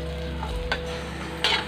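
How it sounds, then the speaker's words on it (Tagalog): Onion, tomato and garlic sautéing in a pan for sarsiadong tilapia, a steady soft sizzle with a couple of brief scraping stirs. "habang ginigisa po natin ng sibuyas, kamatis, bawang"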